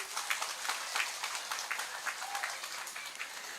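An audience at an Islamic sermon gathering claps together in a brief, steady burst of applause, moderately distant and fairly quiet, with no talk over it.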